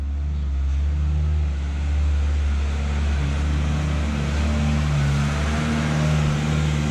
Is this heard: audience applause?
no